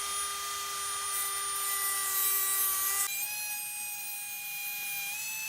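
A Dremel rotary tool cuts into a VW Beetle rear quarter panel with a high, steady whine. The pitch drops partway through as the cutting load changes, and the sound is loud and close, with no talk.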